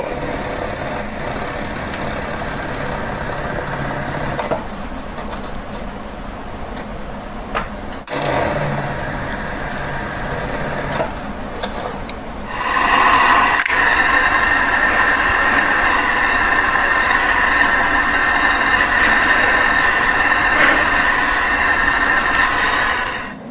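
A rotary tool fitted with a cylinder burr grinds a ring with a steady high whine that holds for long stretches, breaks off briefly, then returns louder and brighter near the end.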